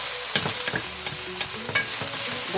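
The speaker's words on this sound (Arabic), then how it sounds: "نقطعو من البصل نحركوها ثاني." Chopped onion stirred in a frying pan with a little oil, a steady sizzle broken by several soft scraping strokes of a utensil, close and alone with no voices.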